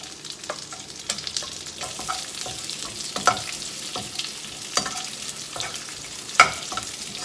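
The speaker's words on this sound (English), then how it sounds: "so we will be adding the onions here." Onions sizzle and fry in a pan for chili chicken, with a steady hiss and occasional sharper crackles and stirring scrapes, fairly close and alone without talk.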